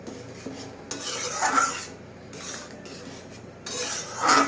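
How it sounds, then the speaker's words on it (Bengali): Masoor dal and fish roe curry being stirred in a metal pan, with a spoon scraping and clinking against the pan in uneven bursts, close and fairly loud, between quieter pauses. "একটু ভালো করে এটাকে নেড়ে চেড়ে ঘেটে নেব।"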